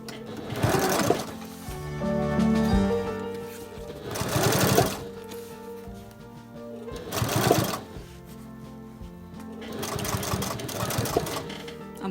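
A sewing machine stitching a corset busk to a bust gusset for a late Victorian lapped-seam corset, running in several close, steady whirring bursts separated by pauses.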